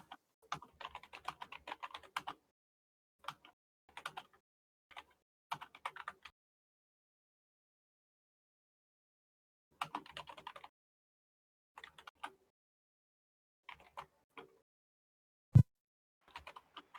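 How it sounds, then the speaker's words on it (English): Bursts of typing on a mechanical computer keyboard, clustered keystroke runs separated by pauses, fairly quiet and close, with one sharper louder key strike near the end. "Just got a little bit of typing to go. It's the great thing about having a mechanical keyboard."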